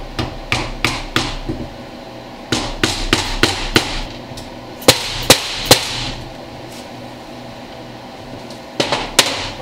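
A pinion seal is hammered into a Ford 9-inch differential, sharp metallic hammer strikes in quick clusters of three to five blows with pauses between, close and loud over a low background hum.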